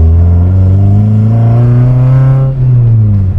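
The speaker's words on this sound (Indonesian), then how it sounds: "dia suara intake-nya cukup kedengeran. ITB-nya itu buka langsung gede gitu ya" A Toyota Corolla's 4A-GE engine with individual throttle bodies pulls under load at low revs in second or third gear, a loud, close, steady intake roar rising in pitch before easing off near the end.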